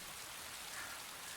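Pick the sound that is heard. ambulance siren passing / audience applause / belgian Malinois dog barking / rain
rain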